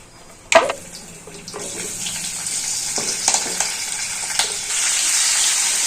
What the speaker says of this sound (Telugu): చిటపట అన్నప్పుడు క్యాప్సికమ్ వేసేస్తాను.